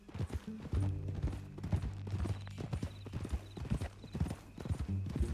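Horse hooves clip-clop steadily at close range in the Red Dead Redemption II video game, a continuous trotting rhythm with a low hum underneath and occasional faint horse snorts.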